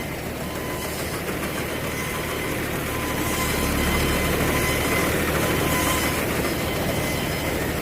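A tyre-grip paddy harvester engine runs steadily in a field, a constant rumbling drone with clattering mechanical texture that grows slightly louder midway, with no voices.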